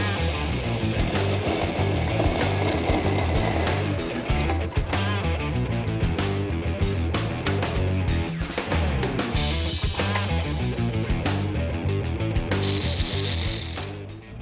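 A power tool cuts through a section of intake pipe on a 525 hp LS3 cold air intake build, a loud, continuous grinding, rattling cut that ends with a brief high whine.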